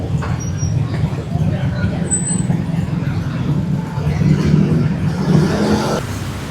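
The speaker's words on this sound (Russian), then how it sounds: "когда ты выходишь на улицу, сразу наполняет шум со всех сторон" Busy street traffic in Bangkok, Thailand: a dense, steady roar of engines and passing vehicles with a few high squeaks and chirps over the din, constant and fairly loud throughout.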